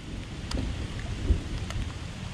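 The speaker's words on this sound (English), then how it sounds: "All right, that's thunder. That sounds bad." A low, continuous rumble of thunder rolls directly overhead beneath steady rain during a thunderstorm, with a slightly stronger swell about halfway through.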